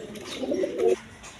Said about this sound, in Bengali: দুটার নর কবুতর দেখেন এখানে একটা নর ওইখানে একটা নর